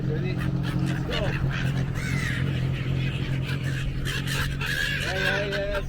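Seagulls calling in Thailand, several short, nasal cries nearby rising out of a steady crowd murmur, with people talking throughout.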